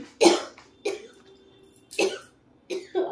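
Five short, separate coughs spaced irregularly, close and fairly loud, with quiet gaps between them and no speech.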